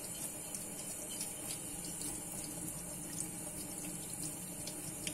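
Tap water runs steadily into a sink while rinsing off a cleaning product, a continuous splashing hiss with faint clinks, close by and without talk.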